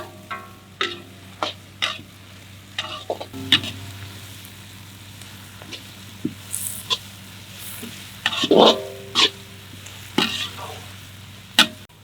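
Onions with curry leaves fry and are stirred in a pan during village cooking of a goat head dish: sharp, irregular utensil scrapes and knocks over a low sizzle, close and repeated, with no speech.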